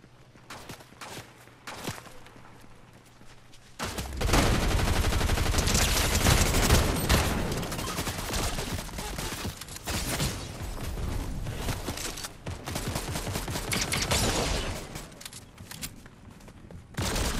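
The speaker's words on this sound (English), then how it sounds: "He's shooting at our guy." Enemy gunfire in a shooter game: after a few scattered shots, a dense sustained burst of rapid automatic fire erupts nearby, continuing loudly with brief pauses and mechanical clatter.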